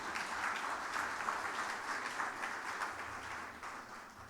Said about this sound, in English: Let us have a big round of applause for our guests.